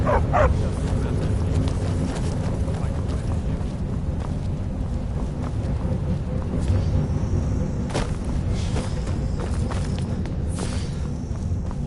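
A dog barks in the video game Skyrim, its few sharp barks set within a dense, steady game soundscape of low rumble and scattered clatter.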